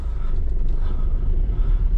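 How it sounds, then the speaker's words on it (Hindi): A diesel car pulls away in first gear as the clutch is eased out, a steady low engine rumble heard close up with no speech. "मैंने फर्स्ट गियर में लगाई हुई है और मैं इसको बड़े ही प्यार से रिलीज कर दूंगा"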